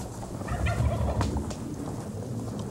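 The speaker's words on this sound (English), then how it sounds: "Sometimes it takes a challenging gobble to coax a response from turkeys nearby." A wild turkey gobbles during an Alabama turkey hunt, one rolling gobble rising out of outdoor ambience, fairly close and loud, with no talk.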